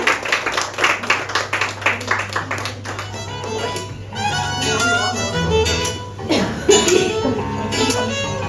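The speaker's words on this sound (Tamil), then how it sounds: "பாட்டிக்கு ஒரு பெரிய கைத்தட்டல் கொடுங்க" An audience claps for an elderly grandmother at a women's day celebration, a burst of dense hand claps in the first few seconds that thins out, after which a voice talks over a faint steady hum.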